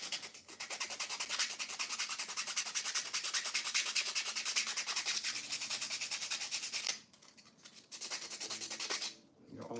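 Rough 3D print being sanded by hand, a close, loud and continuous rapid back-and-forth abrasive scratching that pauses twice briefly before resuming.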